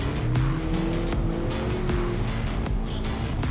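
A Ford Mustang takes a corner on the road in Québec, its engine droning loud and steady inside the cabin while tires squeal in rising and falling tones, with no talk.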